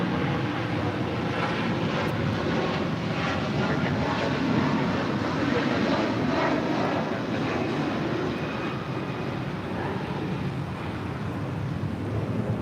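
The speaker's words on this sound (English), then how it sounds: "This is Air Canada 788 departing to Toronto on an A330-300." An Air Canada Airbus A330-300 jet departs for Toronto, its engines a loud, steady broadband roar that holds at full strength throughout, with wind buffeting in the background.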